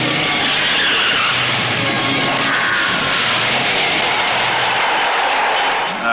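Truck engines drone and rev loudly in a movie scene at a spectator show, mixed with a steady crowd-like wash that holds for six seconds before dropping off at the very end.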